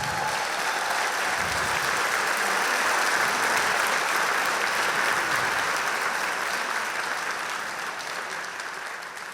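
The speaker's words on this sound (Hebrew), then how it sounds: "אז בבקשה מחיאות כפיים" Sustained audience applause at a company launch event for PassportCard Pay, a thick wash of many hands clapping that stays strong, then slowly tapers toward the end.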